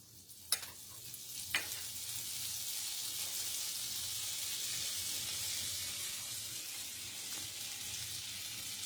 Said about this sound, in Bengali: এবারে আমি ওই কড়াইতে নিয়ে নিচ্ছি বাটার